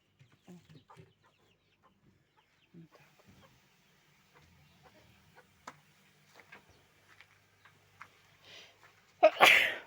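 A rabbit gives one sharp, close sneeze near the end, after a stretch of quiet rustling and small knocks while rabbits are being paired for breeding.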